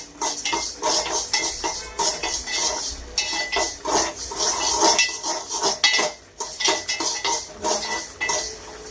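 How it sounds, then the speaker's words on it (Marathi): Urad dal dry roasted in a pan, with a spoon stirring and scraping against the metal in repeated close clinks and rattles over a faint frying hiss. "आता ही व्यवस्थित भाजून घेऊया खमंग वासे येऊसपर्यंत डाळ भाजून घ्यायची"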